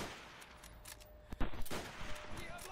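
Bursts of gunfire in a Call of Duty: World at War team deathmatch crackle through a few seconds of match noise, with sharp close shots clustered near the middle and faint talk underneath.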